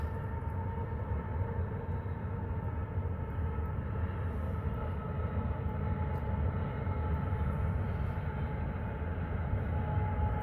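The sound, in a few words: distant train passing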